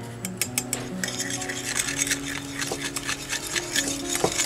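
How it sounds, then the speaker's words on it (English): Baking ingredients with cinnamon being whisked together in a bowl, a rapid run of close metallic clinks and taps of the whisk against the bowl, steady throughout. "We'll whisk all of this together."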